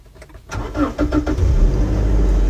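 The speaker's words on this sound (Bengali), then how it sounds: "গাড়ি স্টার্ট হয়ে গেছে, আমি চাবিটা ছেড়ে দিই নাই, এখন কিন্তু ইঞ্জিনে শব্দ করতেছে" Car engine cranking with the ignition key held too long after it fires, a starter whir catching into a steady, loud close engine running, with a brief click before it starts.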